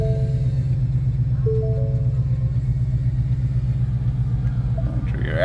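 A 2020 Ford Mustang GT Premium with a six-speed manual idles after starting, a steady, deep and loud engine rumble that runs throughout with no talk.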